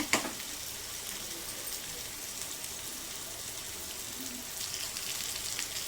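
Vegetables fry in a pan with a loud, continuous sizzle and a sharp burst right at the start, keeping a bright, even hiss with no voices.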